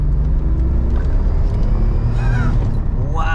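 Twin-turbo engine of a 377 bhp Lotus Carlton pulls hard in second gear, a loud steady rumble heard from inside the car with a brief whine near the end.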